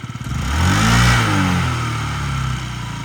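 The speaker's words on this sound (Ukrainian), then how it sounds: "Тихенько, гарно, рівно працює двигун." A small fuel-injected Yamaha Jog SA36 scooter engine runs close by, revving up briefly and then settling back into an even, steady idle.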